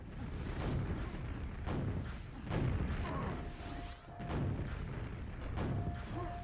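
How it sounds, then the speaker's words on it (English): Grenade explosions in the QuakeWorld arena shooter land in quick succession, about six muffled booms spaced roughly a second apart, each a low thudding burst over steady game ambience. "Bit of grenade spam from Balomat, trying to make sure he can get something at big"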